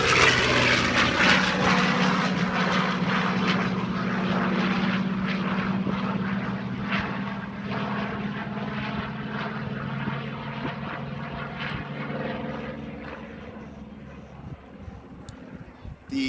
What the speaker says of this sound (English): the Texan flight doing a commemorative fly past over Lake Washington